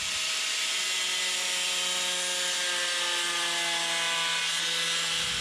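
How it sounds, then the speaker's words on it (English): Cutting a bumper reinforcing piece on a 2nd-gen Nissan Frontier produces a continuous, close, high-pitched power-tool whine with steady tones that dip slightly in pitch as the cut bites, heard alone without talk. "I'm gonna just go ahead and cut the reinforcing piece off halfway through on both sides."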